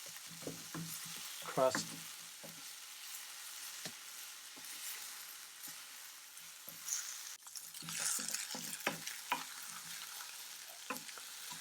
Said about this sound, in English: stir it around evenly. Keep an eye on it because you don't want it to burn, and you know there's garlic in it